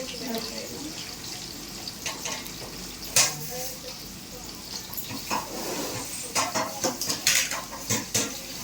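Green chilies hit hot oil in a pan being readied for kurma, giving a low sizzle beneath clinks of utensils and pans, with a few sharp clatters and a voice talking in the background.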